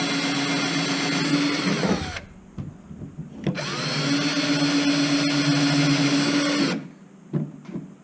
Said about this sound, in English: it's good at drilling your pilot holes